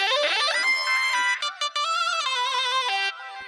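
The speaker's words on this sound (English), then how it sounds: "Added a square wave from Serum, and sounds like this." A buzzy square-wave synth lead from Serum plays a short gliding melody with bright harmonics, briefly cutting out midway, alone and fairly loud.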